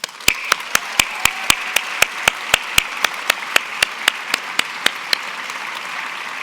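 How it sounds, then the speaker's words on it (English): A steady, evenly spaced run of claps rings out in a large hall at the SAIS Europe commencement, applause for the award winners, sharp and regular over a faint background murmur. "Let's have one last large round of applause for all the award winners"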